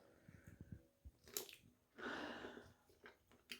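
Close, quiet chewing and biting of shrimp arrabbiata over angel hair pasta, with soft wet clicks, a few crunches and a brief breathy squish, all in short irregular bursts.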